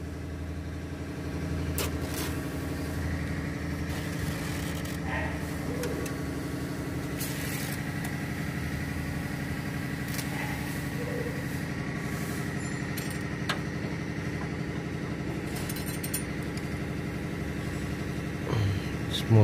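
The MWM diesel engine in a Ford F4000 truck runs at a steady, low idle nearby, with a constant rumble and occasional metallic clinks; faint voices can be heard in the background.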